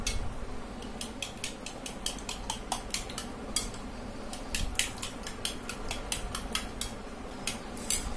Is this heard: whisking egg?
yes